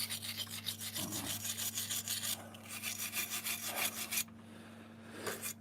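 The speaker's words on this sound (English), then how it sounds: "We're gonna grind this up." Steady rasping grind of an abrasive tool working metal on a forge door, continuous and fairly close, with a few brief pauses and a constant electrical hum underneath.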